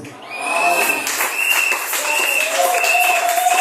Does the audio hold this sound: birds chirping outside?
no